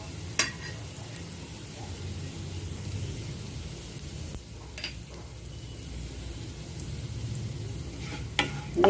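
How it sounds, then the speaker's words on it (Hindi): Cumin, fennel, ajwain and asafoetida crackle in hot oil with the flame off, a steady close sizzle broken by a few sharp pops, no talking. "देखिए बंद में ही ये तड़क भी गए।"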